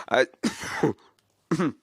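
A few short, harsh coughs come in separate bursts with brief pauses between them, close and fairly loud.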